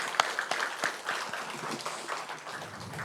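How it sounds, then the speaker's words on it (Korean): A church congregation applauds together during a Sunday service, with steady crowd clapping at moderate loudness that tapers gradually over a few seconds. "하나님께 영광의 박수 올렸으면 좋겠습니다"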